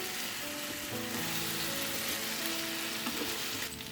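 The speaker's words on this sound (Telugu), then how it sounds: "ఇప్పుడు లో ఫ్లేమ్లో పెట్టుకుని ఈ చికెన్ పీసెస్ని కాస్త కలర్ చేంజ్ అయ్యే వరకు కూడా ఫ్రై చేసుకోవాలి" Chicken pieces frying in a pan over a low flame, giving a steady, even sizzle with faint tonal hums in the background, near and continuous, with no one talking.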